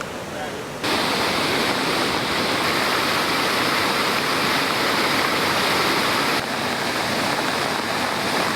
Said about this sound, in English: The Nilvala River as well as the Kiramara Oil Reservoir have started to overflow amidst heavy rains